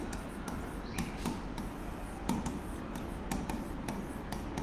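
Writing on a board during an English grammar lesson: a steady run of scratchy, tapping strokes, close and moderately loud, with no talking.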